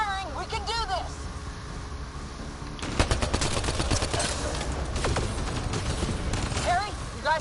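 Rapid gunfire bursts from a sci-fi shooter firefight in Mass Effect: Andromeda, loud and dense from about three seconds on, with raised voices and other game sounds mixed in.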